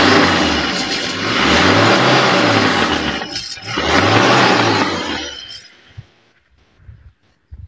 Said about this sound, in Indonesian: Nah, suara mesinnya enak.